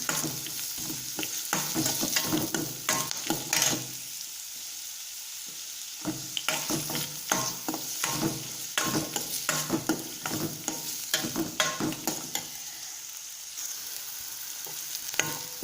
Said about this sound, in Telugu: కొద్దిగా కరివేపాకు వేసుకొని ఫ్రై ఉల్లిపాయలు వేగే వరకు ఫ్రై చేసుకుందాం.